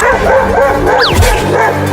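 A dog that has just fallen from a tree gives a single sharp yelp or bark, loud and close, against a steady background.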